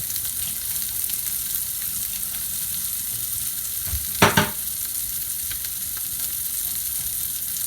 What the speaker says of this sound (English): that's sizzling really nicely